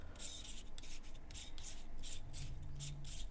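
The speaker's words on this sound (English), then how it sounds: "unscrew the hood basically" Camera lens hood being unscrewed from a Leica M-mount 35mm f/1.4 lens, a close, soft rubbing and scraping of threads in quick repeated twists.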